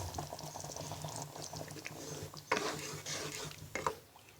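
Mixed vegetable soup with egg boiling in a pot while being stirred, a steady bubbling simmer with a few louder scraping stirs near the end, close by with no talking.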